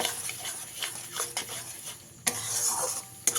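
Spice paste with tomato and sugar, for a pabda fish curry with ground mustard, is fried and stirred in a pan. Quick spatula scrapes over a soft, close sizzle.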